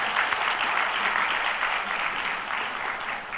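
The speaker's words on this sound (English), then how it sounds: "let's give a round of applause to that." Audience at a December university commencement ceremony breaks into applause, a dense, even roar of many hands clapping that holds steady and fades slightly toward the end.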